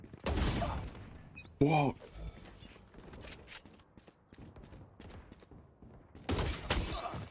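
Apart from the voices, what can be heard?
continuous gunfire in a shooter video game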